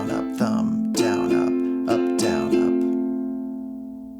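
A ukulele played slowly in a thumb-pluck and strum pattern, with about six distinct strums in an even rhythm ringing out close and clear before fading to silence.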